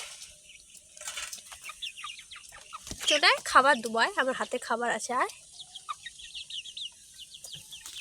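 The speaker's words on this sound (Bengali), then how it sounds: "এই যে দেখো, এই মুরগি মুরগি" Chickens clucking near a household, their short pulsed calls rising briefly amid light chatter, with people talking over and between the calls.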